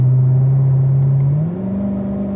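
A race car engine drones in 4th gear on the front straightaway, a loud steady tone that steps up in pitch partway through as it accelerates.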